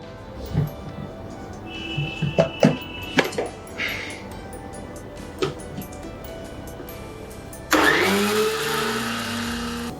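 Mixer grinder grinding cumin with grated coconut starts up near the end and runs as a loud, steady whir, after scattered kitchen clatter and knocks.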